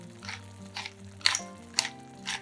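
A salted, peppered filling sizzling in a frying pan as it is stirred, a few short scraping strokes over a soft, close frying hiss, with no talk.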